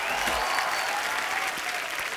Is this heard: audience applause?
yes